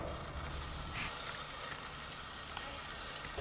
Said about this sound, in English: grab your can of WD-40 multi-use product from the shed and give it a really generous spray